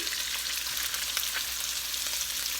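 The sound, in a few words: garlic, ginger and onion sizzling in frying pan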